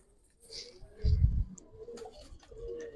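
Giribaz pigeon in a loft giving a soft, low coo close by, brief and fairly quiet, with faint chirps and rustling around it.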